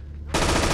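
An automatic weapon fires in the video game Infernal: Hell's Vengeance, a sudden loud burst that cuts in after a quiet moment and holds as dense continuous gunfire.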